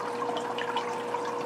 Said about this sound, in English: apologize if the splashing water is a little bit loud